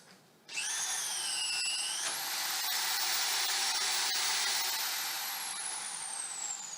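Automated steel beam bolt tightening robot whirs with a steady high-pitched motor drone that starts abruptly, holds for several seconds with a pitch glide, then tapers near the end.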